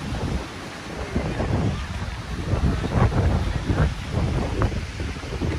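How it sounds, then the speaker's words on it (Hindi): Strong wind gusts buffet the microphone beside a cold mountain river in the Swat valley during light rain, a continuous roaring rush that swells and fades in waves. "हवा भी बहुत तेज है, बारिश भी हो रही है"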